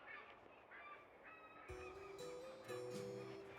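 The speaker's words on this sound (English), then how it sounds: "A lot of seagulls." Seagulls call in the port city of Valparaiso, Chile, with a run of loud, honking squawks over steady city background noise.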